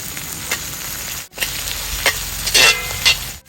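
Crushed shallots fry in oil in a pan for a chicken masala, a loud, close, steady sizzle with scraping and clattering bursts as they are stirred. No one speaks.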